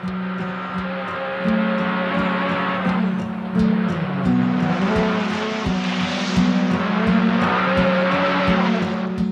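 Peugeot 408 race cars in Argentine motorsport roar past at close range, engines revving hard and shifting through sustained high-pitched notes, with tires squealing and no talk over the racing noise.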